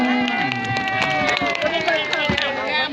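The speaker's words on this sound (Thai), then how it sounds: "ขอเสียงปรบมือให้แกลูกหลานนะน้อง" A lively crowd at a temple cheers and claps continuously for a primary school students' dance, with children shouting and excited voices layered over the noise.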